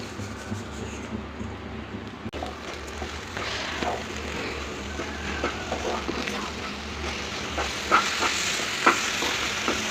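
A coconut and jaggery halwa mixture stirred and sautéed in a pan, the spoon scraping steadily over a continuous sizzle, close and moderately loud with no voices.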